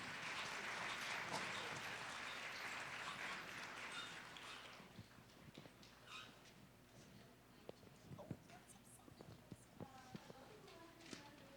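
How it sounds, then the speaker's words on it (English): An audience at a senior variety show applauds performers, a full burst of clapping that thins out after a few seconds, leaving scattered claps and taps in a quieter room. "Let's give them a warm round of applause"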